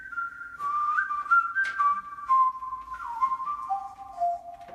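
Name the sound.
pitched whistle in recording studio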